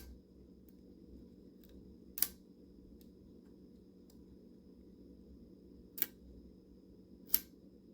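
An old Universal Meteor camera's shutter mechanism resets with three sharp, faint mechanical clicks, spaced several seconds apart over a quiet background hum, with no talking.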